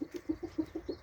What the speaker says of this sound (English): the chickens are quite happy there, pecking away with the greenery